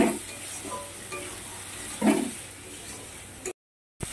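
Rajma being stir-fried with spices in a pan during a Bengali-style north Indian rajma curry, giving a steady close sizzle with scraping stirs and a louder burst midway before a brief cutoff.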